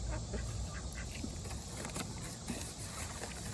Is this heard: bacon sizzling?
no